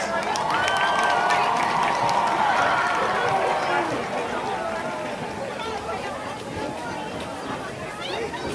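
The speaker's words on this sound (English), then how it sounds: "Can we have a round of applause for the Homecoming Court?" A crowd applauds and cheers for the homecoming court at a high school football game between Rockingham and Eastern Guilford, a broad wash of clapping and voices that starts loud and gradually fades.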